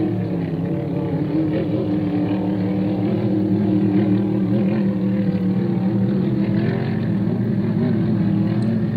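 A loud, steady vintage racing powerboat engine roar drones on without a break, a deep throaty rumble holding strong throughout with no voices.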